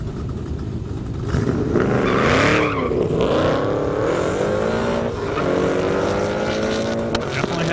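A supercharged Mustang drag car with a Whipple-type supercharger revs and accelerates on an airstrip, its whining pitch rising and sweeping as it roars past, loud and sustained throughout.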